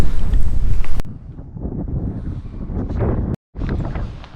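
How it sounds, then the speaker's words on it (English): Strong desert wind buffets the microphone in loud, low roaring gusts by a roadside cholla cactus patch, easing slightly after the first second and cutting out briefly near the end. "It's getting windier and windier."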